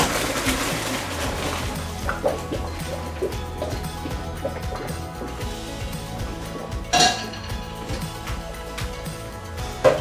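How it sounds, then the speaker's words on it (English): Boiled home-made dumplings drained from a pot into a sink, with clinking metal, clattering cookware and running water amid steady kitchen noise. "Strain them through the sink."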